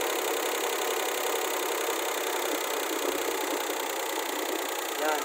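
A Daihatsu Charade engine idles at about 900 rpm after a distributor swap and valve clearance adjustment, a steady close mechanical hum with a fine ticking chatter running evenly throughout and no talk.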